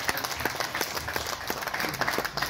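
Applause at a Rwandan wedding ceremony, a steady patter of many hands clapping close by with occasional voices underneath.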